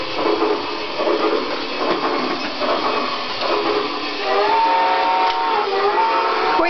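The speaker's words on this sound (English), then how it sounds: "Our little Christmas train." A toy Christmas train runs continuously with a busy mechanical clatter and rattle, fairly loud and close, and a faint whistle-like tone rises near the end.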